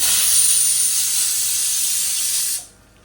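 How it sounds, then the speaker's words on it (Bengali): Chopped onions fry in hot oil to golden brown, giving a loud, steady, close sizzling hiss that cuts off abruptly near the end. "পেঁয়াজ বেরেস্তা মানে পেঁয়াজ লাল করতেছি"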